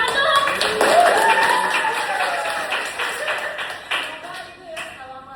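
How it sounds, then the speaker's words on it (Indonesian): A few people in a podcast setting clap in short, scattered bursts that run steadily through the clip beneath overlapping chatter. "Beri tepuk tangan dong."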